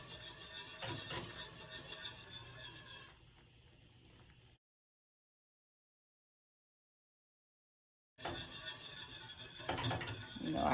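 Vegan grits whisked in a pot: metal clatter and scraping run for about three seconds, then softer, then a long silent gap, before brisk whisking returns near the end.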